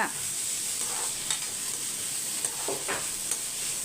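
Potato pieces sizzle steadily as they are sautéed in a pan, with a constant frying hiss and a few scraping stir strokes at intervals.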